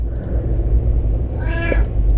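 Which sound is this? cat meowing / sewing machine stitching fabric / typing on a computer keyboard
cat meowing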